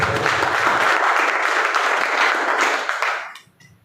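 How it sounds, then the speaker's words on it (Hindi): Loud, dense applause from a crowd at a wellness company business meeting, steady for about three seconds before trailing off quickly. "ये बात जोरदार ताली से।"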